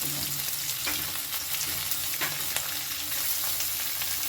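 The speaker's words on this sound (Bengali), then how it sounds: "এবারে দেব পাতলা পাতলা করে কাটা মাছটা" Thinly sliced fish frying in a pan over a medium gas flame, a steady close sizzle with a few soft clicks from stirring, no voices.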